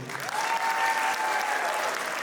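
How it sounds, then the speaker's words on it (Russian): A crowd applauds at a Tabasaran New Year concert in Derbent. The sustained applause from the hall is steady and moderately loud, with a faint held tone running through it and no speech. "В начале концерта можно аплодисментами?"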